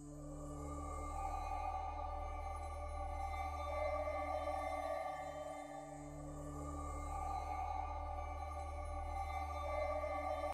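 A slow, evolving synthesizer pad drone from Balkan Ethnic Orchestra in Kontakt, with layered sustained tones and gentle swells, steady and atmospheric throughout.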